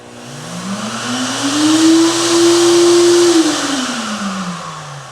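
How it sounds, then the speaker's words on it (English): A Giraffe Tools retractable vacuum cleaner motor starts from a remote button, spins up to a steady loud whine with a broad airy rush, holds, then winds back down, with no talk. "So I can turn on the vacuum from the end that I'm using."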